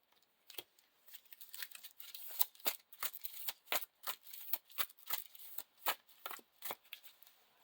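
Playing cards for a Lord of the Rings living card game are shuffled by hand in a quiet room, giving soft, close riffles and crisp snaps in an irregular rhythm of short bursts with no talking.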